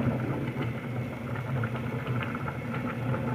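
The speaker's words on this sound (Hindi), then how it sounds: "ये देखें ना जी, चावल में उबाल आ गया है।" Rice for aloo tahari boiling in a pot, a continuous dense bubbling and rolling simmer that stays close and even throughout, with no voices.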